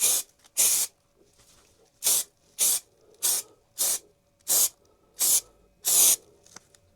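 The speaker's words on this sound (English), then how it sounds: "I'm just going to give it a couple of sprays with the can." A spray can gives several short bursts onto a leather strop, about eight sharp hissing sprays spaced evenly with brief pauses between, close and fairly loud with no talking.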